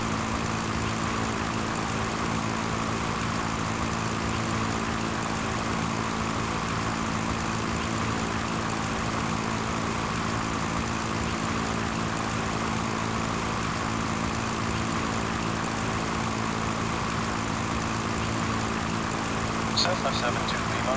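A Cessna propeller plane engine in the Sierra Pro Pilot flight simulator drones steadily and loudly throughout, with a constant low hum and no breaks.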